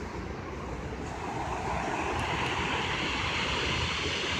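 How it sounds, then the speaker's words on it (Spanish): Sea waves breaking on the shore, a continuous broadband roar of surf that swells slightly louder toward the end, steady and fairly near with no voices. "El sonido del mar tiene un ritmo, el ritmo que le imprimen las olas"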